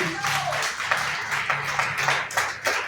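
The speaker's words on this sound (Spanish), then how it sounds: "Vamos a dar un fuerte aplauso al Espíritu Santo." Steady applause from a church congregation, continuous and fairly loud, with scattered voices mixed in throughout.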